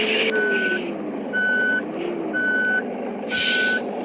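A truck put into reverse gear gives four evenly spaced, loud electronic reversing beeps over a low engine rumble, each beep about half a second long, with no talk.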